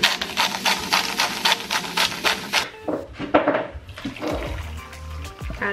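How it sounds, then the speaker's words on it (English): Stock pours into a pot packed with vegetables, first as a rapid splashing gush, then settling into softer sloshing and clinking, close by with no talk. "Add my stock."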